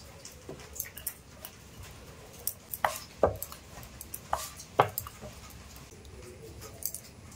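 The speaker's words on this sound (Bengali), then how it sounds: "আটা দিয়ে এবার রুটিটাকে আমি বেলে নেব।" A flour dough roti is rolled out with a rolling pin on a board: soft scattered knocks and taps, a few louder thumps, over a quiet low rumble, with no talking.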